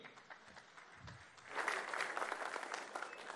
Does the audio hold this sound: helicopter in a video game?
no